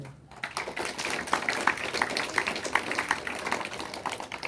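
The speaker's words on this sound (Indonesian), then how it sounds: "Berikan tepuk tangan yang meriah." Applause from students gathered at a Monday school flag ceremony, steady scattered clapping with a dense, rattling texture spread across the whole stretch, heard at moderate distance with a slight outdoor wash.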